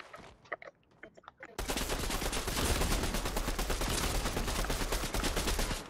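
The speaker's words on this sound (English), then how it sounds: "I'm just gonna shoot everything out." Rapid automatic gunfire in a Fortnite match bursts in after a quiet, sparse start and runs as a loud, dense stream of shots to the end.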